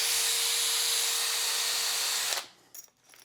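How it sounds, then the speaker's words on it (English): A power drill bores a bit straight through a part of a Traxxas X-Maxx RC car, whining loudly and steadily for about two seconds before stopping, followed by a few faint handling clicks. "So chuck up your drill bit, and then you're going to go ahead and drill all the way through."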